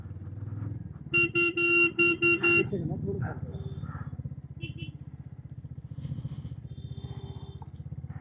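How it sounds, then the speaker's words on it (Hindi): Vehicle horns blare in a loud series of short and long blasts on a mountain road on the way to Adi Kailash, with idling engines underneath, then a few fainter honks follow as people talk nearby. "लेकिन ये है, इनको पता है हॉर्न बजाने से साइड तो दे देते हैं।"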